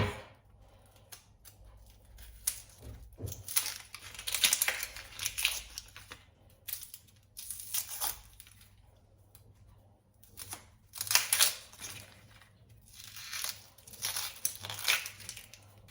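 A small onion being peeled and prepared for egg shakshuka: close, crisp crackling and tearing of dry papery skin in irregular bursts over quiet background, with occasional knife-like snaps.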